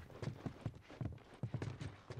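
Horses walking in The Last of Us on PS3, hooves clip-clopping in an even, repeating rhythm, near and fairly loud with a light ambient background.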